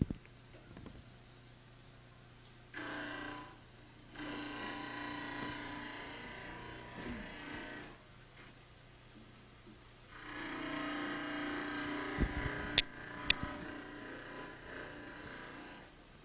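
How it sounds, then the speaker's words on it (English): Dental plaster model ground on a model trimmer: a motor hum with two long stretches of loud, gritty grinding as the model is pressed to the wheel, separated by a quieter pass, ending with a few sharp clicks. "Trim to this line on each side with the model resting on the trimmer table."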